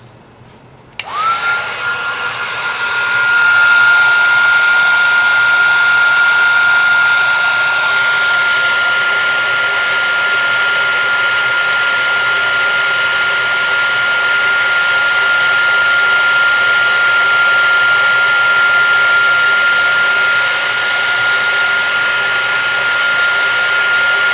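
A craft heat tool roars steadily and loudly while heating embossing powder until it puffs up, its blowing rush starting abruptly and holding with a thin whine throughout.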